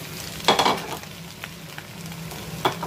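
Rice sizzles and crackles in a hot frying pan, with a few louder bursts as it is stirred, close and fairly quiet.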